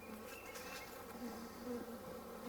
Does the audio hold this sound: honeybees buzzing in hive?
yes